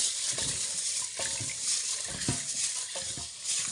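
Beans being rinsed in a basin of water, with splashing and sloshing in short bursts as the water is swirled and poured, close and continuous for a few seconds.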